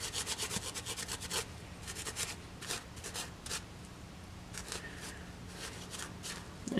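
A Scotch-Brite pad scrubs a handsaw blade during restoration, giving steady close-up rubbing and swishing strokes in uneven bursts, with no talking.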